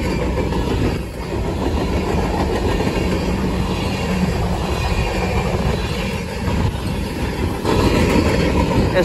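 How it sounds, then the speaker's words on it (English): A train rumbles past close by at Lake Avenue in Blasdell, New York, with a continuous roar of wheels on rails and rhythmic clacking, loud and steady throughout. "I almost missed that train"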